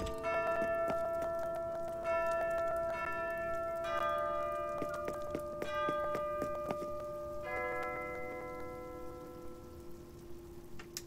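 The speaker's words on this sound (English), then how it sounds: "I absolutely love the sound that my bell tower makes when it plays my song for, like, the hourly time" A bell tower in the Animal Crossing video game chimes an hourly town tune, a soft run of ringing bell-like notes that rise and fall in a clear melodic pattern, heard alone at low volume.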